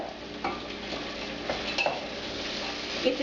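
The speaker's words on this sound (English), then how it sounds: "Now the olive oil and the onions are cooking" Onions cook in olive oil in a pan for Greek Swiss chard and black-eyed beans, a steady close sizzle stirred with a utensil that gives scraping clinks against the pot.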